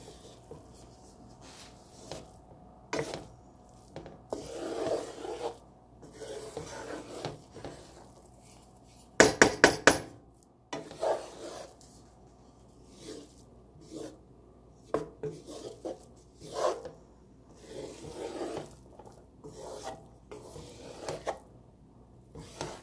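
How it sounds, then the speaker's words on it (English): Spanish (Mexican red) rice being stirred gently in a pot, giving soft scraping and rubbing strokes at an irregular pace, with a brief sharper clatter of the spoon against the pot partway through; no talking. "I wanted to just give this a good gentle stir"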